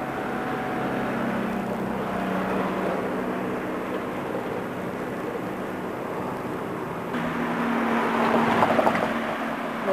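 A steady, loud engine roar of an airplane near an air terminal fills the clip, swelling slightly toward the end like a plane passing close overhead.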